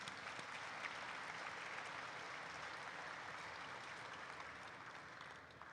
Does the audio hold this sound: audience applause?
yes